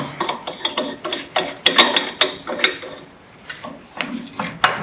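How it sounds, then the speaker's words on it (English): A puller drawing a part off the crankshaft of a Ferguson FE35 vintage tractor during restoration, with close, irregular metallic ratcheting clicks and clanks. "A good puller, and it will just bring it off."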